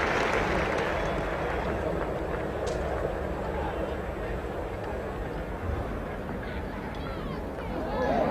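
A 1977 Ashes Test cricket crowd applauds and murmurs after an Alan Knott boundary, a broad wash of clapping and chatter that rises slightly at the end while a commentator talks over it.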